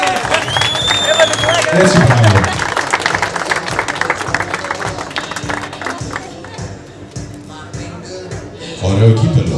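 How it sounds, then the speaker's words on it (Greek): Crowd applause and scattered cheering for a winner at an outdoor car tuning show, steady clapping that thins out and then swells again, with someone talking over it. "Ένα χειροκρότημα, δεν ακούγεστε τα παιδιά."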